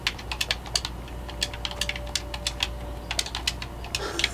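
Rapid computer keyboard typing, with irregular bursts of sharp key clicks close to the mic over a steady low background hum, no voices.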